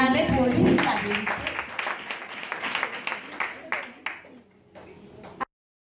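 Audience applause in a church gathering, loud clapping at first that thins out into scattered claps and fades before a sudden stop, with a voice speaking over the start.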